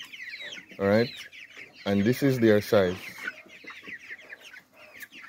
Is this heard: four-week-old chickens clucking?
yes